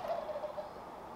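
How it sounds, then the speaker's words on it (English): Wild turkeys gobbling near an outdoor shooting range: a short, rapid warbling gobble, moderately loud at some distance, with no talk. "Okay, we got turkeys coming on the range."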